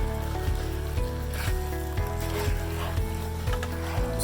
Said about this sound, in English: That sizzle is what you want.